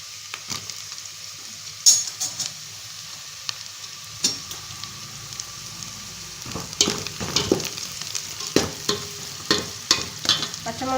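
Green chillies frying with softened onions in a pan for ghee rice, a soft continuous sizzle broken by sharp scrapes and clinks of a spoon stirring against the pan.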